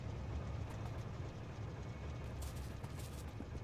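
A Factorio train pulls away in the game, a steady low mechanical rumble and rolling hiss holding at an even level throughout, with no talk.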